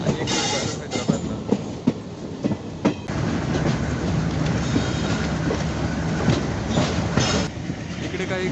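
Parbhani–Nanded passenger train 57512 rolls along loudly and nearby, its wheels clacking in regular rhythmic beats over a constant rumbling roar.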